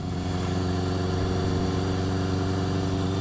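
A 1982 Kawasaki KZ750 LTD motorcycle, a 40-year-old bike, idles steadily up close, its engine holding an even, throbbing low hum for the whole stretch with no talk over it.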